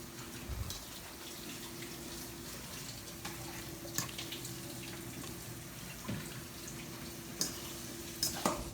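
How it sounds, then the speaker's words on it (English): Cold tap water runs steadily over boiled lasagna noodles in a kitchen sink, a constant close hiss broken by a few soft knocks and splashes. "So you need to run cold water on them so that you can use your hands"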